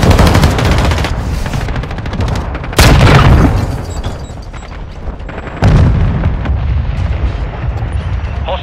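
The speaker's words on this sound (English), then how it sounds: "Throwing flash grenades!" Flash grenades detonating in Call of Duty: Modern Warfare II, loud booming blasts at roughly three and six seconds amid sustained crackling battle noise and rapid fire, close and heavy throughout.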